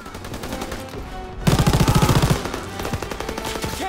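Rapid machine gun bursts from a World War II shooter game, Call of Duty WW2, a loud dense rattle that starts abruptly and runs about a second before easing into scattered quieter shots and game noise.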